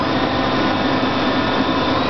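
Daewoo Puma 8HC CNC lathe with its spindle running, a loud, steady, close mechanical whine and roar holding constant without change or talk.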